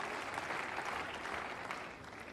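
Spectators at a Roland Garros tennis match clap in a dense, sustained burst of applause that tapers slightly toward the end, with no talk over it.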